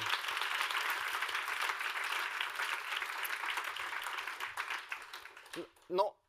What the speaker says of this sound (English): Could we have a quick round of applause for the Bijingo team?